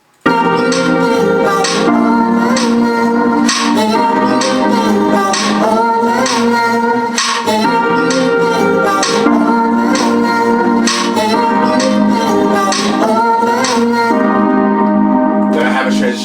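Stacked, sustained vocal tones blend into a lush, reverberant wash, continuous and loud, with the harmonies shifting slowly throughout.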